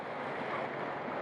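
A boat carries visitors out onto the open sea during a Raksha Bandhan fair at Ghogha, a steady broadband wash of water and hull noise holding constant, with a louder bump right at the end.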